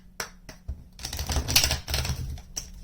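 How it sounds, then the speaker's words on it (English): A tarot deck is shuffled close by, cards riffling and snapping in a quick burst that follows a few sharp taps, with no talk. "Just putting some extra shuffles in here because I didn't shuffle them before"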